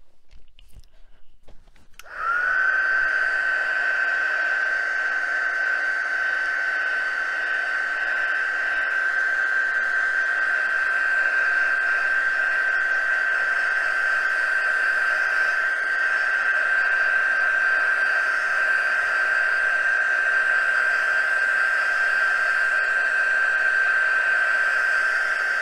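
A hair dryer switches on after a short quiet moment and then blows a loud, steady whine over a watercolor painting for the rest of the stretch, close and unbroken, with no talking.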